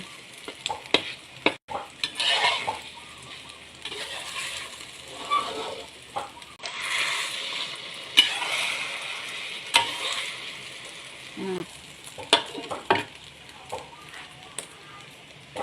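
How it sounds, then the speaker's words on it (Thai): Eggs with tomatoes and onion frying in a pan, giving a close sizzle broken by irregular scraping and stirring clatter from a utensil against the pan. "นี่ทอดแซ่บบักเขือเทศจ้าเพื่อน หัวหอม"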